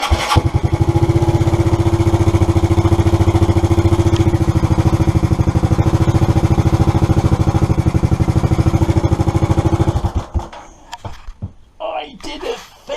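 A motorcycle engine fires up after being rebuilt and runs steadily at a loud, close, even idle for about ten seconds before cutting out, followed by quieter handling noises.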